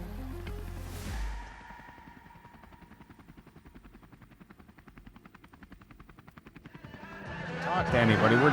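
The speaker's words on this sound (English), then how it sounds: "we are in the helicopter. We're about to take off." Rapid rhythmic whop of helicopter rotor blades over a droning engine, swelling louder toward the end as the machine powers up.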